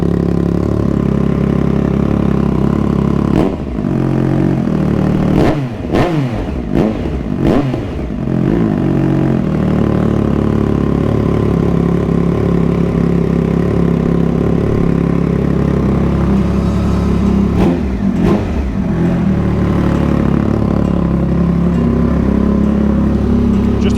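Loud, close Triumph Speed Triple 1200 RS motorcycle with a Pro Race titanium exhaust, idling with a steady throb and then blipping the throttle in several sharp revs near the start and again later.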